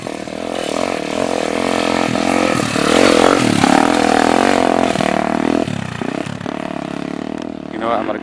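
A Suzuki DRZ 400 dirt bike being ridden makes a loud, continuous single-cylinder engine drone that rises and falls as the throttle is worked, close to the microphone.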